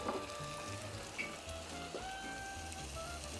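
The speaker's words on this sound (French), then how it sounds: "je voulais quand même cuire un tout petit peu les oignons" Finely cut onions sizzling in a pan during preparation of a Mauritian fish vindaye, a continuous close crackle with faint tonal whines in the background and no speech.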